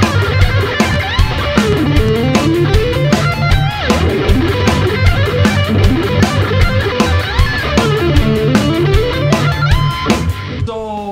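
Electric guitar lick that runs through rapid sweep arpeggios and smooth legato passages, then jumps to a sustained high note at the very end. It plays steadily and loudly with a full band backing, and no one speaks.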